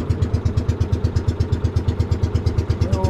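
A motorcycle engine idles nearby with a loud, steady chugging pulse, each beat evenly spaced. It stays alone, with no voices over it.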